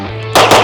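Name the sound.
gunshot at a shooting range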